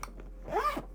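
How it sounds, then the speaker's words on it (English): A camera sling bag for cycling and travel is zipped shut in one quick, close pull, a short rasping zip heard alone in a quiet setting. "zip up, swing it around, good to go."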